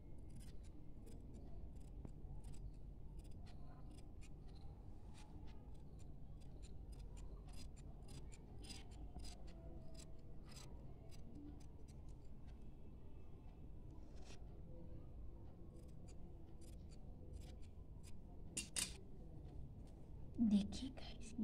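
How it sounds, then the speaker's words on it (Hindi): Scissors cutting cloth for a two-layer face mask, a long run of quick crisp snips close by, faint and steady, with soft talk in the background. "यहाँ से भी अब हम इसे काट देंगे"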